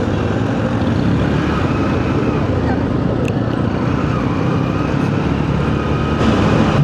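Motorcycles rumble steadily at a group ride event, with a continuous loud engine drone from several bikes moving off together and a voice talking over it.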